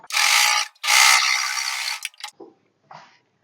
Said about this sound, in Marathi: कडेने दाब शिलाई मारून घ्यायची